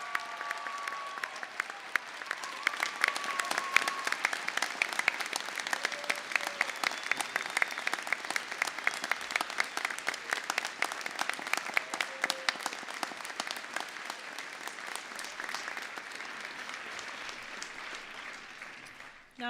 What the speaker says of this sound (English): join me in a round of applause for our graduates this afternoon